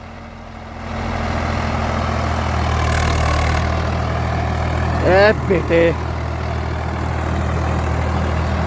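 Swaraj tractor with a new pump idles with a steady low diesel rumble while pulling a 13-tine tiller; the engine revs up briefly, and someone speaks a few words over it.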